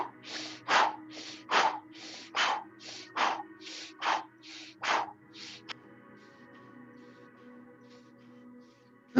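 Rapid, forceful qigong exhalations through the mouth with the belly pushed in: about nine sharp, evenly spaced breath bursts close up, then quieter steady breathing with a faint background hum.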